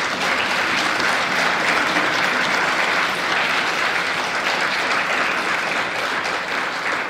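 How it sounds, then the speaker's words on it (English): A church congregation applauds during a service, a dense, steady round of clapping that carries on for several seconds without pause. "shall we give them an applause?"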